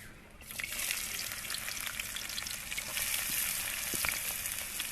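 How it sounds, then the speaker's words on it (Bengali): Onions hit hot oil in a pan and sizzle steadily, a bright continuous crackling hiss with occasional pops, close and alone, while cooking a Bengali chicken dish. "এখন তেল গরম হয়ে গেছে এখন পেঁয়াজগুলো দিয়ে দিব"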